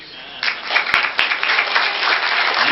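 A seated audience claps for the 2011 speakers and sponsors; scattered claps swell quickly into full, dense applause that stays steady, with a few sharp louder claps near the start.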